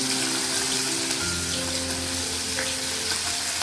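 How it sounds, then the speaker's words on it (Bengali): Small puti fish fry in a frying pan in a little oil with slit green chili, giving a loud, dense, continuous sizzle throughout. "একটাতে পুঁটি মাছ ভাজা হচ্ছে"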